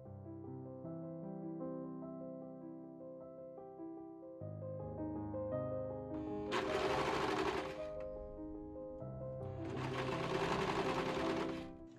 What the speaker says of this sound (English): I serge along the whole side seam.